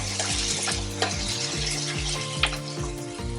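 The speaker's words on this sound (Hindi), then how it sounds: "तो अच्छे से फ्राई करेंगे गोल्डन होने तक।" Onions frying in a pan for egg curry, a continuous hissing sizzle with faint clinks and stirring scrapes, close and even in level throughout.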